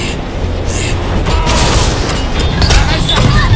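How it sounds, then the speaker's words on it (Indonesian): On a Japanese bullet train in a film, a bomb explodes with a loud, sustained rumbling roar and crackling debris, voices faintly mixed in. "akhirnya bom meledak"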